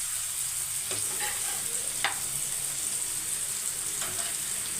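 Onions and potatoes frying in a pan, a constant soft sizzle broken by a few brief scrapes as the potatoes are turned.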